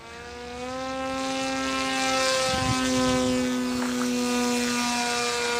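A modified Peace Drone model plane flies under throttle, its propeller motor holding a steady buzzing tone with clear harmonics, swelling slightly as power comes on and staying fairly close.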